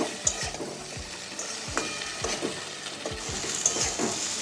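Pumpkin and potato chorchori with leaves is stirred in a sizzling pan, a steady fry underlying rhythmic low scrapes and knocks of the spoon roughly every half second, close and alone.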